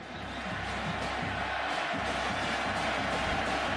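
A stadium crowd at a college football game in Norman, Oklahoma State at Oklahoma, gives off a continuous distant roar of cheering, fairly faint and even across the whole stretch.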